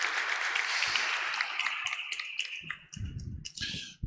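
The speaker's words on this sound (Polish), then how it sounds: "Przywitajmy go oklaskami." Audience applause welcomes a guest at an indoor talk event, a dense patter of many hands clapping close for several seconds before thinning into scattered claps at the end.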